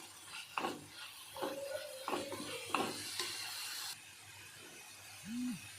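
Fenugreek leaves fry in oil with a soft sizzle under a spoon that scrapes and clanks against the pan several times in a slow, uneven rhythm, then the pan falls quieter.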